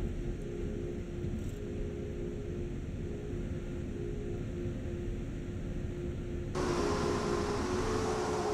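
A locomotive runs on the Ruhr-Sieg Nord line in Train Sim World, giving a constant low rumble and hum with a steady tonal whine that brightens into a louder hiss near the end.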